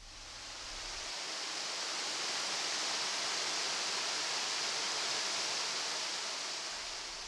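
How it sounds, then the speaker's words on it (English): Minnehaha Falls at Hiawatha in South Gippsland, near Yarram, sends up a steady broadband rush of falling water, swelling in and holding constant with no voices. "this is Minnehaha Falls in Hiawatha, South Gippsland, not far from the town of Yarram."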